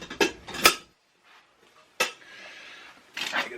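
Camping cookware, a Snow Peak kettle and a stowaway pot, clanks in a few sharp metallic knocks and rattles close by, with short pauses and a softer shuffle between them.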